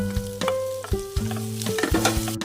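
Onion, ginger and tomato sauté in a hot pan, giving a steady sizzle broken by repeated scraping stirs of a utensil, close and clear with no talking.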